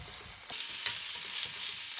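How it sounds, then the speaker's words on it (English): Chili pepper and grated garlic fry in hot oil for mapo tofu, giving a steady, close sizzle with soft stirring scrapes and a few small pops, no talk. "Turn up the heat and fry them in the oil to boom the aroma."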